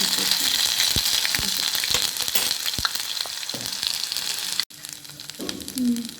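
Ginger garlic paste frying in oil for a raw plantain curry gives a loud, close, steady sizzle with scattered pops and spoon clinks, dipping briefly near the end, with a voice faintly heard at times.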